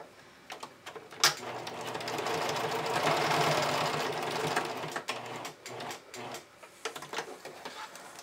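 A sewing machine stitches back and forth across a bikini strap, securing the join: a steady, close mechanical whir that holds for several seconds, framed by short clicks and stops as the fabric is repositioned.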